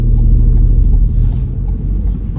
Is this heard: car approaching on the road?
yes